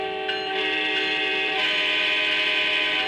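A train whistle blows one long, sustained, steady tone that swells louder partway through and holds to the end.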